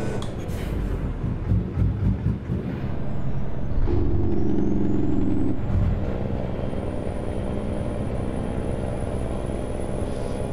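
A truck slowing down in American Truck Simulator, a steady loud engine drone with a hiss like an air brake, rising whine-like tones and a sustained rumble throughout, with no talk.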